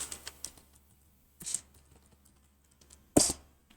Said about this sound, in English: we're going to now type in